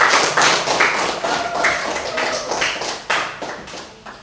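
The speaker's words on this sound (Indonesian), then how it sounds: "berikan aplaus untuk kelompok 3" A seventh-grade classroom applauding a student discussion group, a loose burst of clapping from many children with uneven taps and thumps, fairly close and continuing for several seconds.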